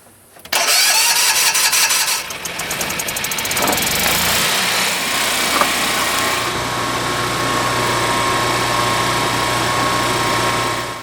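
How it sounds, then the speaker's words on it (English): An off-grid homestead generator cranks briefly, catches and settles into a steady, loud, continuous running drone with a constant hum. "We finally got the generator going, and it is operational now."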